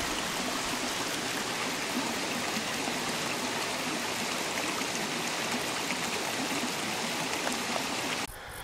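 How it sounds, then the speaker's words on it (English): Water rushes through channels cut along the Longji rice terraces in China, a steady, close, broadband flow that holds constant for about eight seconds before it drops away abruptly. "It's a pretty little spot where they have channeled the water purposely along the terraces."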